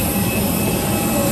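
Jet engine of a passenger airplane just after landing at Gorontalo airport, a steady loud broadband roar holding even throughout, with no talking.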